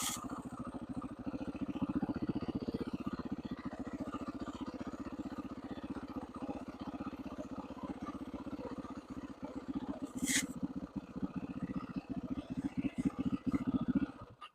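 A 450 four-stroke dirt bike pulls away and rides on, its low engine drone steady and close throughout, with a brief scrape partway.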